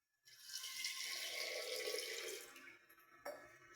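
Water pours steadily into a pressure cooker over peas, potatoes, turmeric and salt, a continuous close splashing rush that tapers off after a few seconds, ending with a brief clunk.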